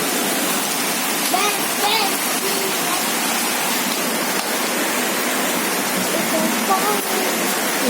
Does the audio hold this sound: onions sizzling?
no